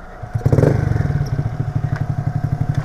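A 50cc moped with its original engine revs hard and close, a loud buzzing two-stroke drone that rises then settles into a rapid, pulsing idle-like chug.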